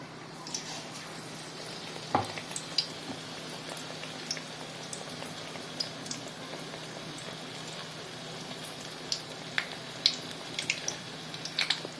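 Batter-coated pumpkin flowers fry in oil over a low gas flame, a steady soft sizzle with scattered bubbling pops and crackles, fairly close and even throughout.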